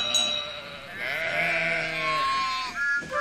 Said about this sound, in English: Oh, Toby, you've scared all the sheep away.